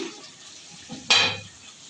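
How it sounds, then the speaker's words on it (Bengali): A lid lifts off a pot of cooking mutton with a short metallic clank, and a brief burst of sizzling follows before settling back to quiet. "চাপা খুলছি"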